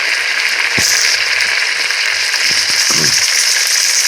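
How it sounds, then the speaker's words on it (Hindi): Garlic, onion and tomato frying together in a pan for fish korma, a steady broadband sizzle running throughout with a few soft stirring knocks, no voices. "टमाटर ऐड करने के बाद तीनों को अच्छी तरह से भूनेंगे।"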